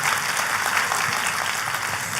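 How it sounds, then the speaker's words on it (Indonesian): Congregation applause fills a church service during a sermon, a steady dense wash of clapping at moderate level throughout, with no other sounds standing out. "Kita kasih tepuk tangan yang paling meriah."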